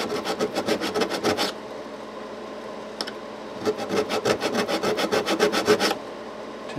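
Guitar frets on a Les Paul-style electric guitar are sanded by hand with 300 grit abrasive in quick rhythmic back-and-forth scrubbing strokes, close and fairly loud, in two bursts separated by a quieter pause with a single stroke.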